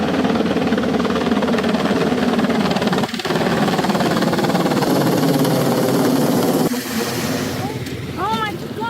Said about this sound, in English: This helicopter just flew in and knocked over everything.